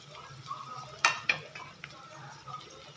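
Gavar (cluster) beans with tomatoes stirred and sautéed in a pan: a soft continuous sizzle with a couple of sharp utensil scrapes and clinks against the pan.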